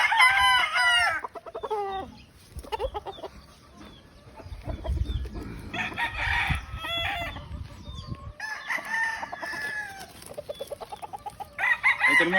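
A Golden Boy Sweater gamefowl broodcock rooster crows loudly several times and clucks in between, close by, with low rumbling background noise.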